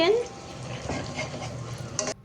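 A spoon stirs thick halwa in a pan over low heat with sugar added, giving soft scraping and shuffling strokes for a couple of seconds, ending in a small clink.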